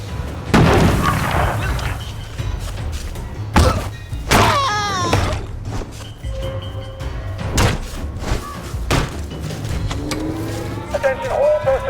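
A grenade explodes in the stealth-survival video game We Happy Few, giving deep booming thumps amid game sound effects, scattered impacts and a voice over the loudspeaker throughout.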